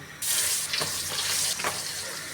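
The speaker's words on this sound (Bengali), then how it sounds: "তেলটা গরম হয়ে গেছে এখন আমি মাছগুলো দিয়ে দিব" Pabda fish dropped into hot oil in a wok, a sudden loud hissing sizzle that holds steady with a few brief stirring bursts, close up and without speech.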